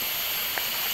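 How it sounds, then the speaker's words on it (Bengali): A mountain stream tumbles down a hillside among pine trees, a dense, steady rushing hiss of flowing water that fills the whole moment without pause, with no voices. "সাইড দিয়ে এখানে পাহাড় থেকে কোনো একটা জলধারা নেমে আসছে, কুলকুল কুলকুল করে আওয়াজ হচ্ছে"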